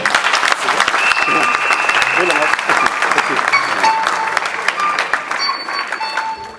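A wedding congregation in a church applauds and cheers the Lord with loud, sustained clapping from a large crowd. The applause runs throughout, alongside voices, and slowly tapers toward the end.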